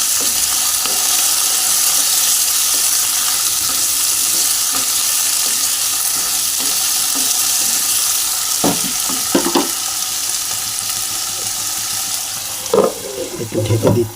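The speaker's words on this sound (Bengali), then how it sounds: "আমি টমেটোটাও দিয়ে দিলাম আর কুচিয়ে রাখা কাঁচা লঙ্কাটাও দিয়ে দিলাম। সব একসাথেই আমি ভালো করে একটু কষিয়ে নেব, লাল লাল করে।" Tomato and green chilli sauté in a pan with a steady, loud sizzle, followed near the end by a few sharp clinks and stirring scrapes.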